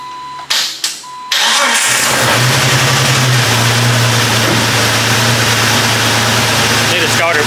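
A turbocharged Jeep TJ cranks briefly with a couple of starter whirs, then catches and settles into a loud, steady, rumbling idle that continues close by without pause.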